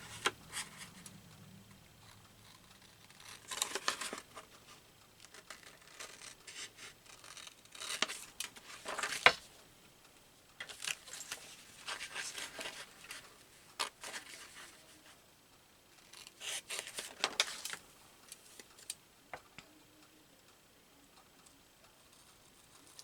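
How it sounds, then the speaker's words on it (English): Scissors snip through paper for a handmade collage, coming as scattered clusters of crisp cuts and rustles separated by quieter pauses, close and fairly soft with no talking. "Maybe I will cut out this frontier up here."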